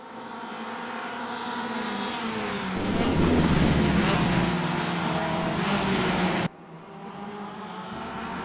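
Race cars in a sim racing game roar down the straight, one tucked in behind another, a sustained engine drone that swells loud midway and then drops abruptly to a lower steady hum.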